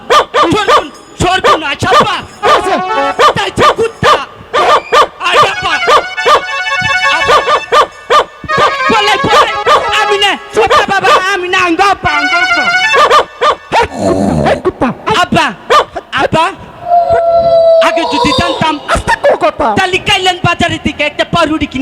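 A dog barks and yips in short bursts beneath loud, overlapping voices that keep talking over it.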